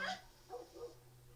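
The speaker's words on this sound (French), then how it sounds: "Un chien qui gueule. Qu'est-ce qui se passe? Pourquoi le chien gueule?" Dog barking in the video game The Last of Us, a couple of short faint yelping barks in quick succession over a low steady hum.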